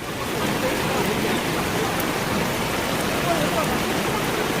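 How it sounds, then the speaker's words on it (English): Heavy rain pours onto the streets of Seoul as a dense, loud, constant hiss that never lets up, with no clear voices over it. "Heavy rain in Seoul, in some places 70 to 130 millimeters of precipitation."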